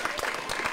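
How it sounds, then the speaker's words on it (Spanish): Brief burst of applause for a schoolgirl at a school event, a short patter of clapping hands from a small group. "Muy bien, aplauso para la niña."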